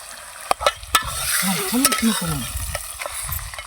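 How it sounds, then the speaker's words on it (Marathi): Mutton and turmeric stirred in a hot pan in a Dhangar-style mutton dish, with a steady close sizzle under sharp spoon scrapes and clacks against the metal, several distinct strokes early on and then continuous frying. "आता हळद टाकलेली आहे मी आता हलवणार आहे एकत्र"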